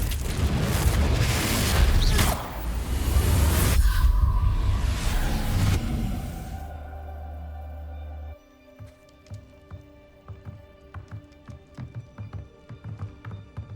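A Confringo fire spell in Hogwarts Legacy lands as a loud, roaring explosion that rumbles heavily for several seconds. It then drops away to quieter scattered taps and thuds.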